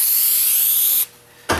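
Headliner glue from a JD Soundguard headliner kit sprays in a loud, steady hiss for about a second, stops briefly, then bursts again at the end.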